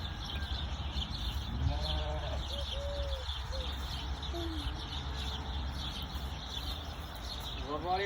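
Sheep bleat intermittently at a farm park, several short wavering calls over a steady outdoor rumble with chirping birds, while people talk nearby.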